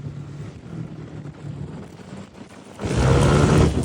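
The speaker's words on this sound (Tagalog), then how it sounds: "It's mahangin." Gusty wind buffeting the microphone with a low rumble, rising to a loud, blustery rush toward the end.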